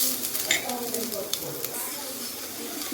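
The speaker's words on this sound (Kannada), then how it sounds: "ಬೆಳ್ಳುಳ್ಳಿ, ಈರುಳ್ಳಿ, ಸ್ವಲ್ಪ ಎಣ್ಣೆ ಹಾಕ್ಕೊಂಡು ಇಲ್ಲಿ ನೀಟಾಗಿ ಹುರ್ಕೊಳ್ತಾ ಇದ್ದೀನಿ" Garlic and onion frying in a little oil in a village-style kitchen, a steady close sizzle with light stirring clinks and scrapes, under a voice talking.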